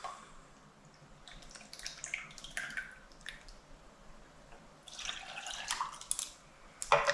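Half a cup of Trader Joe's pineapple juice pours into a cup in uneven splashy gurgles and drips, quiet and close, with a louder burst of liquid near the end.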